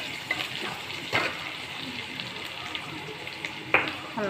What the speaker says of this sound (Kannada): ಅದೇ ಎಣ್ಣೆಯಲ್ಲಿ ಈರುಳ್ಳಿ ಹಾಕ್ಬಿಟ್ಟಿದ್ದೀನಿ.